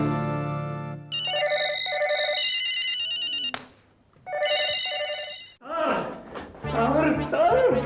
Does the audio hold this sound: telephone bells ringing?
yes